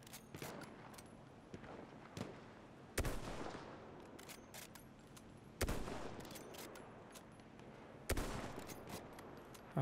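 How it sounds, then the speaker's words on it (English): Sniper rifle shots ring out in Battlefield 1, three sharp, loud cracks spaced a couple of seconds apart, each with a long fading tail, over a constant backdrop of distant battlefield gunfire and small pops. "Let's see if we can snipe somebody from here."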